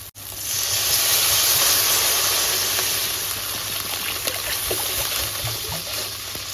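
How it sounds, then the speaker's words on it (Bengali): Water is poured into cooked-down spice masala in a pan for a lentil and prawn muitha curry, a steady close hiss and trickle that softens after a few seconds, with small sputters and no talk. "এই পর্যায়ে দিয়ে দেবো আমি পরিমাণ মতো জল।"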